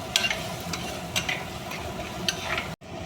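Onion and tomato sauté for prawn theeyal, a steady close sizzle with occasional scraping stirs of a spoon against the pan, cutting off abruptly just before the end.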